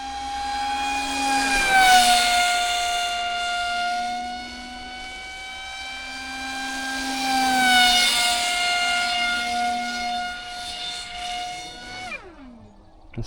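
The electric motor of an RC model F-22 whines steadily at full throttle, swelling and sagging in pitch as it passes, then winds down sharply at the end.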